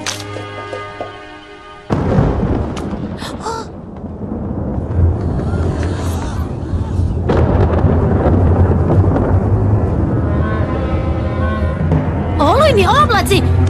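Thunder from gathering storm clouds in an animated My Little Pony film: a sustained low rumbling that builds and rolls beneath dialogue and music.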